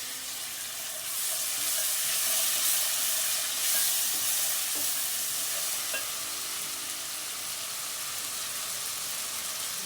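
Browned onions frying in a pan as ginger-garlic paste goes in, a loud, continuous hissing sizzle with faint utensil taps and no voices.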